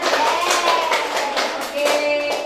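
Classroom clapping for Farah, a student who won a game and received a prize, comes as a dense patter of hands from a small group, steady throughout, with faint voices mixed in.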